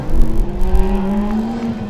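A Formula Student race car accelerates on an autocross course at FSG 2012, its engine note holding a steady rising tone at a moderate distance, alone without voices.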